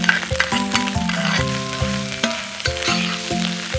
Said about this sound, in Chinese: 依次加入刚才煎好的虾仁、切好的胡萝卜丁、黄瓜丁。 翻炒一下就可以了。